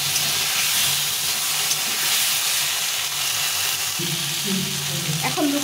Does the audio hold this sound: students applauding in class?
no